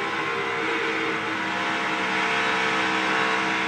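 A NASCAR Gen 7 Cup Series race car runs in high gear at around 8,400 rpm at Texas, giving a loud, sustained engine roar with no break.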